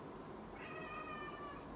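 A cat meows near a crackling fireplace, one drawn-out, wavering meow that is faint but clear over a steady background hiss.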